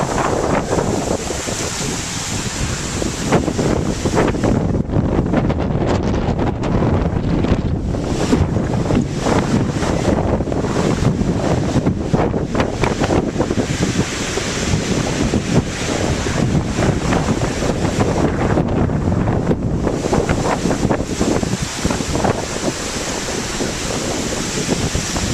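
Strong tropical storm wind from Tropical Storm Debby roars steadily near Bradenton and Anna Maria Island, a loud, continuous buffeting rush across the microphone with gusty surges and no voices.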